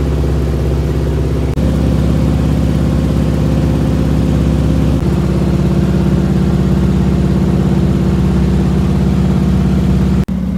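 A DHC-2 Beaver's radial engine holds max continuous climb power at 30 inches and 2,000 RPM after takeoff from Gatineau, a loud, steady, droning roar that fills the cabin throughout.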